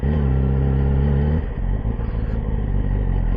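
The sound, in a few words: Yamaha R6 motorcycle engine at low RPM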